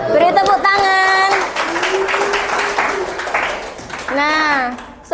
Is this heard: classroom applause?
yes